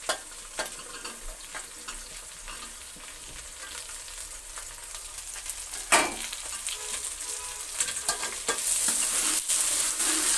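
Chopped ridge gourd sizzles as it fries in a pan and gets stirred, producing continuous close crackle with periodic scraping strokes that grow louder toward the end, without any voices.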